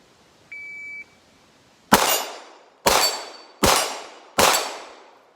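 An electronic shot-timer beep starts a pistol drill, followed about a second later by four loud, sharp pistol shots at a quick, slightly uneven pace, each with a ringing decay.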